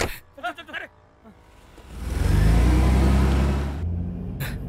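A car drives off, its engine swelling into a loud low rumble and revving roar that peaks midway and then fades, following a few seconds of talking beforehand.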